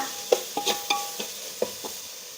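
Onion, green chilli, coriander and mint masala being sautéed in a pan for mushroom white biryani, with a few close spoon stirs and scrapes over a soft sizzle and no talk.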